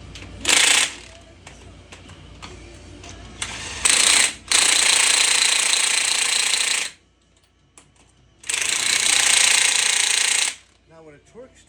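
An impact wrench driving a torque stick onto Jeep Wrangler lug nuts: a short burst, then several long, loud hammering runs of a few seconds each, close up, with brief pauses between.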